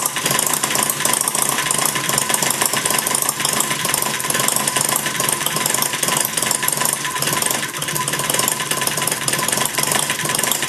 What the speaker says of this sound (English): You know it's running real, firing every time when you can get it to idle that low.